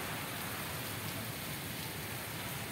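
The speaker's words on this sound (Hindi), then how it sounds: "ये देखें बारिश बहुत तेज़ बारिश है" Heavy monsoon-like rain pours steadily, a dense, unbroken hiss of water hitting surfaces close by, reaching into rooms, with no voices.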